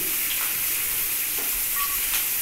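Ground spices such as turmeric and chili powder fry in a pan with a steady, close, broadband sizzle and occasional faint scraping or stirring, with no talk.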